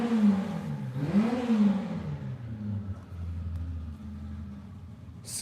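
A Honda Civic race car engine revs up and down at a neighbor's shop. Its whining tone rises and falls in a couple of sweeps, then settles into a lower, steadier rumble, heard at moderate distance without talk.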